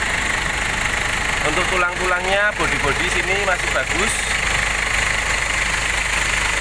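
A 2015 Ford Everest 2.5 diesel 4x2 SUV idles with a steady, even engine hum throughout, while someone talks briefly over it.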